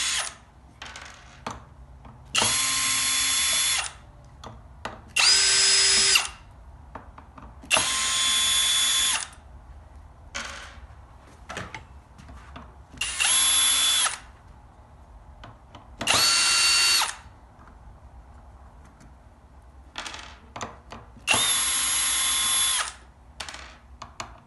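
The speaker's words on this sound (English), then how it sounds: "I'm going to take these 4 screws off this metal bracket at either end." A power drill backs four screws out of a metal bracket on a pinball playfield, giving several loud bursts of whirring a few seconds long, with quieter handling clicks and rattles between them and no one talking.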